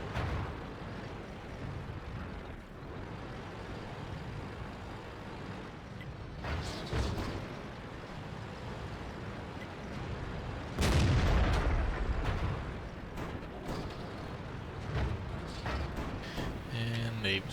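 Tank cannon shots in the video game World of Tanks, playing a Type 5 Chi-Ri: a few sharp, booming blasts stand out against quieter background game noise, the loudest near the middle.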